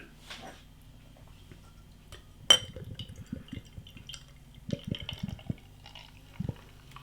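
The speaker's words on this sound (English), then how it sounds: "let's get it out into a glass and see what we get" Endeavour Rockstar Pale Ale, a tropical, fruity Australian craft beer, poured from a can into a glass, with a sharp clink followed by a run of gurgles and splashes, close and fairly quiet, with no talking.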